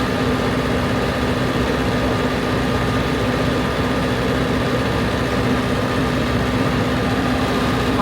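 A 16 kW generator runs with its panels closed, its exhaust giving a steady, even low drone that holds unchanged throughout with no talk over it.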